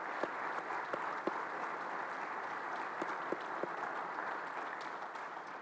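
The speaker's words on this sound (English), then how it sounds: "let's give them a round of applause" An audience at a Baylor Baseball press conference gives a steady round of applause, a sustained wash of many hands clapping at a moderate distance, fairly soft, with a few sharper claps standing out.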